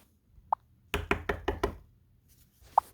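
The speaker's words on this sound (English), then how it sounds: "I hear a knock at the door." Knocking at a house door late at night: a quick burst of five sharp raps in a rhythmic run, framed by single isolated knocks before and after, close and clear in an otherwise quiet room.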